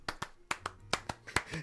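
Hands clap in a quick series of about ten sharp, close claps with an uneven rhythm, alone with no talk over them.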